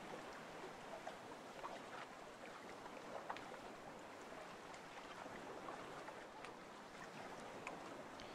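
A boat moving across water in the video game Tropical Escape, a steady rushing wash of water and wind that stays level throughout with no break, moderately loud and without voices.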